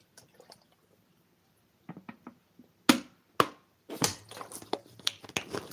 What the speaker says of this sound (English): I'm just having a drink of water.